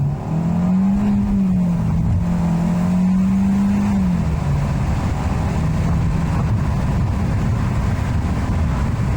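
A Kia K5 sedan accelerates hard with traction control off, engine tone rising and holding strong before easing, heard from inside the cabin with no talking.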